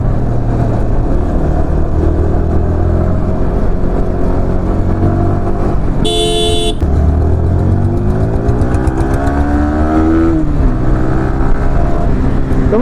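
A motorcycle engine hums steadily on the road near Mekhliganj, with rising harmonic sweeps as the rider accelerates and shifts, plus a short burst of high-pitched interference midway; no talking.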